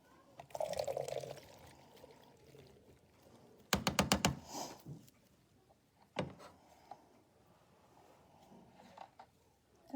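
Liquid drains from an opened can of corn, a brief splashing pour followed by a sharp rapid rattle of drips and a lone clunk, close by in a kitchen.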